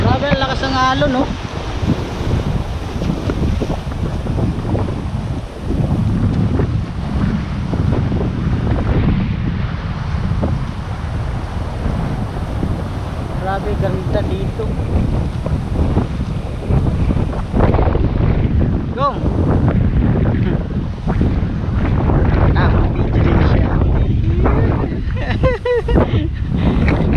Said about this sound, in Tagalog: Grabe, lakas ng alon, no?